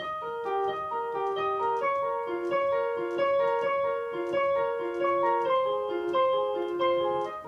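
A piano plays the repeating intro riff of a song, short, even notes lightly doubled an octave apart, which gives the tune a thicker tone.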